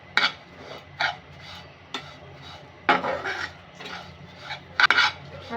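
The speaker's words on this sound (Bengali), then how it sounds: "দিয়ে এবার সবগুলো উপকরণ আমি মিশিয়ে নেব" Ingredients for a fried lachha semai snack are stirred in a pan, giving intermittent scraping and rasping strokes of a utensil against cookware, spaced irregularly and fairly close.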